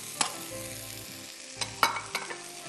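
Beans fry in a pan with garlic and nutmeg, a continuous close sizzle punctuated by several sharp clicks and scrapes of stirring.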